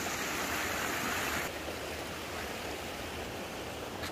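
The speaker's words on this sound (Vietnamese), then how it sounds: "Suối chạy giữa vườn nè quý vị" Water of a stream running through a 3-hectare garden estate in Di Linh with a rock waterfall, a steady broadband rush that is brighter in the first second and a half, then a softer continuous flow with no talk.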